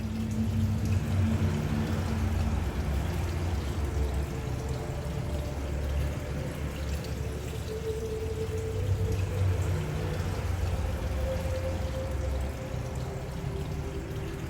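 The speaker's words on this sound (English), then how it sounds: "we discovered a charming little tunnel with a delightful water feature" Water feature in a village tunnel in Saint-Ursanne, Switzerland, pouring and splashing steadily and fairly close, a continuous flowing rush with no voices.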